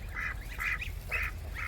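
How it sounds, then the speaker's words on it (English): A silver drake duck gives four raspy, nasal quacks in an uneven rhythm over a low rumbling background, moderately close with no talking. "And my silver drake."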